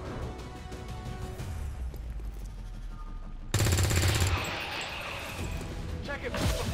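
Automatic gunfire in the XCOM 2 turn-based tactics game, a loud burst of rapid shots erupting midway over a busy game soundscape with a voice talking, then dropping back to background battle noise.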